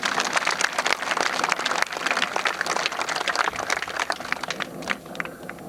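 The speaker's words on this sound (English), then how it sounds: "I'm going to say clap for each one because I think they deserve it." Audience clapping fills a school gym during a 1987 dedication ceremony, a dense, steady patter of many hands that stays loud throughout and tapers only slightly near the end.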